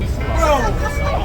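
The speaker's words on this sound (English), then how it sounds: "The bus ride was unusually noisy." Inside a moving city bus in Boston, passengers chatter in an indistinct babble over the steady low rumble of the engine and road noise.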